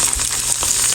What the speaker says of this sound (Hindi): अब इसको फ्राई करते हैं